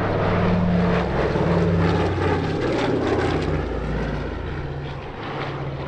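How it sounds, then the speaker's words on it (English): A vintage Second World War PBY-5A Catalina flying boat passing at an airshow, its piston engines and propellers giving a loud, steady droning roar that slowly eases as it moves away, with no speech. "Sticking with the Second World War, here's Plain Sailing's PBY-5A Catalina."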